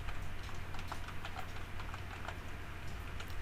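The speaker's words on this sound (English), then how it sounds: "Now you type in msconfig." Keys on a computer keyboard clatter quickly as a command is typed, a dense run of light close clicks over a low steady background hum, with no voice.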